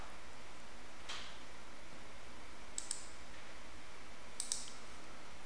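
A few sharp mouse clicks in the TradingView charting platform, one single click followed by two quick double-click pairs, crisp and close over a faint steady background hiss.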